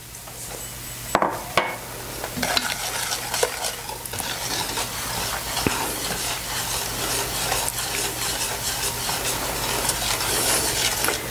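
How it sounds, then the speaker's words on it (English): A whisk beats cornstarch, lemon peel and lemon juice together in a pan for a lemon puff cake filling, with rapid, continuous scraping strokes against the metal, close and fairly loud, after one sharper clank near the start. "I'm going to add my cornstarch to this, and I'm going to whisk this together"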